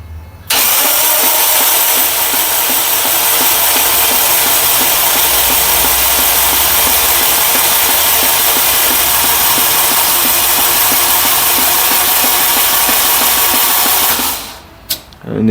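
A Toyota MR-S with a swapped Honda K24 engine being cranked by its starter, a loud, continuous rapid churning that runs for about fourteen seconds before cutting off abruptly, with no voices.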